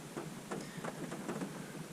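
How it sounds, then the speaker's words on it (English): Rain falling steadily on an Oregon coastal river morning, a constant broadband hiss with faint irregular patters, moderately quiet and without voices. "The rain's still coming down."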